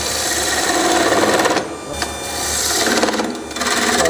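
Roughing gouge cutting a spinning wooden candlestick blank on a lathe, a loud continuous rasping, shearing whir that dips briefly twice as the tool lifts and re-engages, with no voices.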